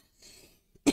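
A single short cough comes at the end, preceded by a faint throat sound.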